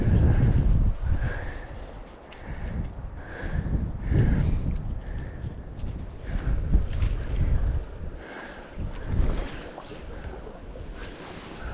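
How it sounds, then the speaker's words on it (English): Strong wind gusts across a river at a trout-fishing spot, buffeting the microphone in uneven, rumbling surges with flowing water faintly underneath. "Look at that wind. Man, oh man, it's just giving her out there."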